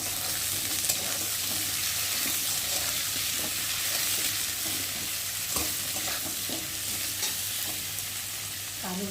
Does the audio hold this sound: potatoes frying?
yes